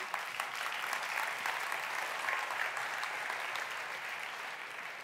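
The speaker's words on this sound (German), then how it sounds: "Klatschen Sie ruhig mehr, weil dann kann ich immer zwischendurch was trinken" Lecture audience breaks into steady, dense applause that fills the hall for the full stretch, many hands clapping at an even level with no voices on top.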